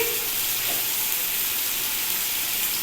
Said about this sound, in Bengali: গ্যাসটা বাড়িয়ে দিচ্ছি যেন বাকি সবজিগুলো যেন ভালো করে ভাজা হয়